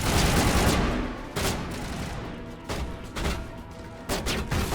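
Rapid bursts of gunfire in the Mass Effect PC game, several volleys of cover fire with short pauses between them, loud and close with no talking.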